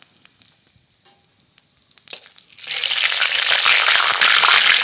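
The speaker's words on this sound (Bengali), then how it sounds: "চিকেনের জন্য ফোড়ন করে নেব তেল গোটা জিরে তেজপাতা শুকনো লঙ্কা" Whole cumin, bay leaf and dried chilli hit hot oil for a chicken dish. After a few soft clinks, a loud, steady sizzle bursts up and keeps crackling to the end.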